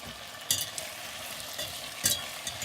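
Lamb curry with tomatoes and potatoes simmers in a pressure cooker pot on a Trangia camping stove, a soft steady sizzle broken by a few scraping stirs, close and without voices.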